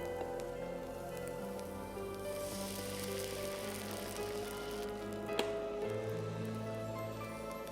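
Steady crackling sizzle of water hitting a hot pan, a dense hiss with scattered pops running throughout, fairly quiet and close.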